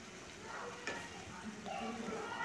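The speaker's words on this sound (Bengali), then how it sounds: "দিয়ে খুব ভালো করে আমি একটু কষিয়ে নিচ্ছি।" Kashmiri chili powder and spices sautéing in hot oil for a vegetarian cauliflower kalia, a soft steady sizzle with light stirring scrapes, close and fairly quiet throughout.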